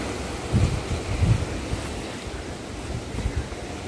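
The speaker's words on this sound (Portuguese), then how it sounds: "Olha aí, pessoal. Olha o vento." Wind blowing outdoors over a field of small yellow flowers, a steady low rumbling roar with gusts buffeting the microphone, no talk.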